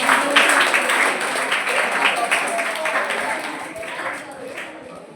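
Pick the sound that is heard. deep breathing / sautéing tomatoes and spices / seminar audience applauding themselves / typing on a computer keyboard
seminar audience applauding themselves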